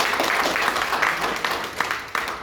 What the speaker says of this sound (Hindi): ये इनकी हिम्मत, इनका हौसले के लिए कम से कम जोरदार तालियां तो बजानी होगी।